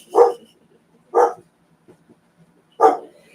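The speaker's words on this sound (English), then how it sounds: "Oh, I got the doggy saying hello." A dog barks three times, loud and close, with gaps of about a second between barks and near silence in between, no voices present.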